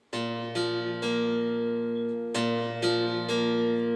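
An acoustic guitar chord strummed about six times in two groups, each strum ringing out full and sustained, close and alone with no voice.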